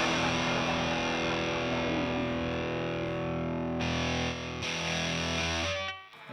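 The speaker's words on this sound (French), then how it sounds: "La distorsion." Electric guitar played through a Walrus Audio Fundamental distortion pedal, giving a thick, sustained, saturated tone that rings continuously and loudly, with a brief dip and a change of chord near the end.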